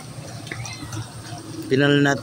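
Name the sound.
pouring fresh water to replace dirty water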